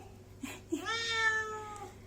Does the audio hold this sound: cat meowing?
yes